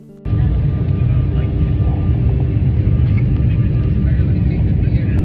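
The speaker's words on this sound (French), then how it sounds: "Et me voici finalement en train d'atterrir à Nashville, donc dans le Tennessee." Airliner landing at Nashville, Tennessee, heard from inside the cabin as a steady, loud broadband engine and airflow roar with low rumble that holds constant throughout.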